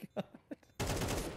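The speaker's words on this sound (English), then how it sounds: "I hear gunshots, but I don't know where." In Counter-Strike 2, a few short muffled thuds, then a sudden loud, sustained burst of rapid gunfire that keeps going, sounding close and harsh.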